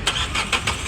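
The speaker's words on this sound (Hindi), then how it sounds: "एक बार बंद करके दोबारा स्टार्ट करो, बंद करो, स्टार्ट करो, स्टार्टिंग तो देखें" A Renault Kwid's engine cranks and catches in quick repeated bursts up close, the car being checked for misfire and low pickup, ending in a steady idle.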